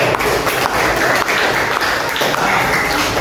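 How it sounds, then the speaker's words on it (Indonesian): A group of students applauds together in a classroom religious-education session, steady dense clapping from a nearby crowd filling the whole stretch with a few louder accents. "Tepuk tangan untuk kelompok 1."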